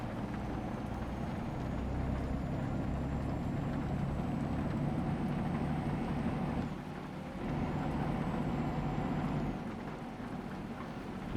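A truck engine in Euro Truck Simulator 2 drones steadily with a faint rising whine while shifting up through the gears. A brief dip marks a gear change, and the engine holds at a constant moderate level with no voices.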